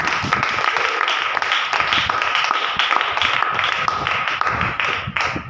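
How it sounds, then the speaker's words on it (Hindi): A church congregation claps hands together in a dense, steady run of applause during a sermon, loud and close, with no speech over it. "आप ताली बजा सकते।"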